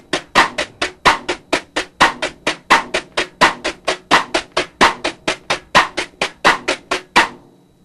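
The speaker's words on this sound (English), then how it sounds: "Figure 19 is the bossa nova pattern with 1 stick and 1 brush." Bossa nova drum pattern played with a cross-stick in one hand and a brush in the other, a steady run of crisp, close clicks in a lilting repeated rhythm with no voices.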